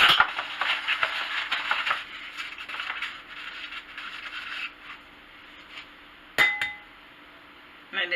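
Eggs cracked against a bowl edge and dropped into cake batter that already holds milk, for a candy apple cake, giving a few sharp clinks and taps over quiet kitchen noise.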